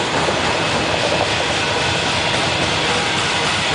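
Loud, steady rumbling roar of a freight train braking downhill close by, with a dense grinding, hissing wash of wheels and brakes.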